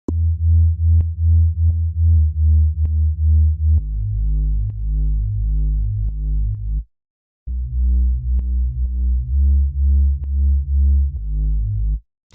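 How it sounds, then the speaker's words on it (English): A deep, buzzing Reese bass synth for ambient future garage, playing sustained low notes in a repeating pattern, with a brief gap midway before resuming. "let's go ahead and kick things off here with the first dark reese bass"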